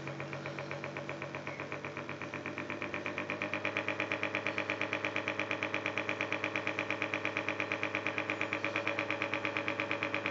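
Electric motor running at its maximum speed, set with a variable resistor, giving a steady, fast, even whirring hum with a regular pulsing rhythm throughout, close and continuous with no talk.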